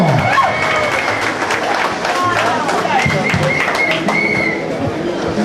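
Loud, continuous applause from a mariachi festival crowd for Shiny Gerardo, with scattered cheers and whistles over dense clapping. Crowd voices and talk mix in throughout.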